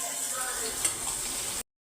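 Curry leaves sizzle in hot oil with fried mustard seeds, cumin and garlic for a soyabean curry, a steady close hiss and crackle that cuts off abruptly after about a second and a half.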